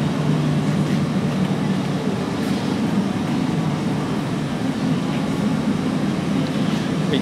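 An Isuzu 6BD1-T turbo diesel truck engine runs at a steady idle, a continuous close rumble with a low throbbing drone and no change in pace.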